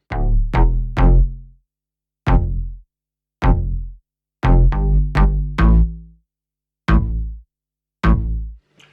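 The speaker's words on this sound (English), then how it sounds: "Moving on to the last thing of the drop here, which is the bass" Layered electronic bass with an organic feel plays alone in short, bouncy plucked notes, loud and close, in spaced groups separated by silence.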